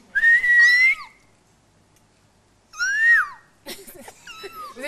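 A person whistles high, chirping phrases imitating a baby bird, two bursts separated by a pause, then a more broken, fluttering whistle at the end.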